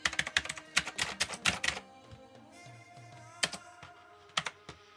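Keys clack on a gray Knewkey Rymek typewriter-style mechanical keyboard: a quick, dense burst of typing, then a pause, then a few scattered clicks. Close and clear with no voices.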